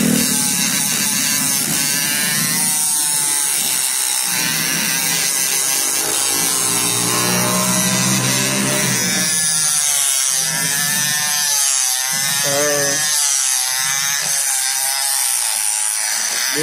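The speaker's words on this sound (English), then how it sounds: "This is a two-stroke Kawasaki HD3." Two-stroke Kawasaki HD3 motorcycle engine running, a continuous buzzing, raspy drone with the pitch rising and falling as the throttle is revved, loud and close throughout.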